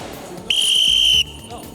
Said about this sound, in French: J'ai sifflé.